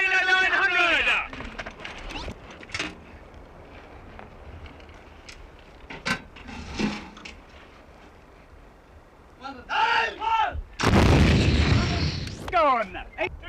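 An artillery gun fires on command during a crew drill, a single deep, loud boom coming near the end after quiet stretches of radio-style commands and speech; people talk before and after the shot.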